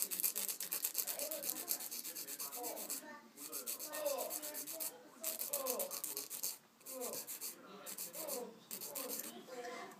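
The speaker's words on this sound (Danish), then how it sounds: "Og så tager man lige og filer de værste skarpe kanter" Nail file rasping sharp edges off a fingernail during gel nail prep, a close, steady scratchy rubbing in quick back-and-forth strokes with brief pauses.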